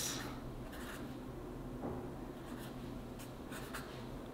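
Pen scratching out a title by hand on paper, a steady close scraping of handwriting strokes that continues throughout with no one speaking.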